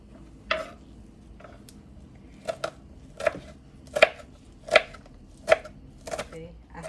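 Knife chopping poi bhaji into small pieces on a board, about eight sharp, close taps in an uneven rhythm over a quiet room hum.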